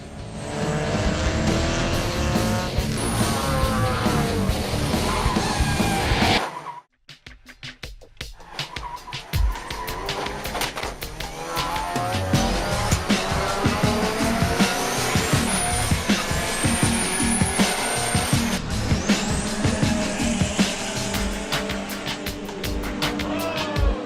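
Race car engines roar loudly during a race, with tires squealing as the cars skid, a sudden brief drop near the seven-second mark, then revving and screeching resuming at full volume.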